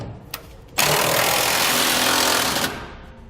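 Power tool driving the mounting bolts of a B&W Companion sliding fifth wheel hitch on a Ram pickup, a loud close burst of harsh, rattling grinding lasting about two seconds, with a small knock just before it.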